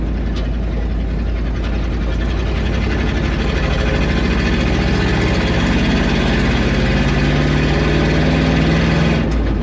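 Engine of an old Dodge Sweptline pickup truck, long out of service, running steadily while the truck drives, with a loud continuous low rumble and mechanical rattle throughout.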